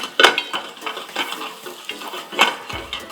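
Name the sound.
onions sautéing in a pan with ginger and garlic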